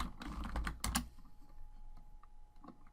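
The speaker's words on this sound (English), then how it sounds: "we'll type the word return in here" Close, steady typing on a computer keyboard while entering an axis title in an Excel chart, a brisk burst of clicking keys that thins into a few scattered taps.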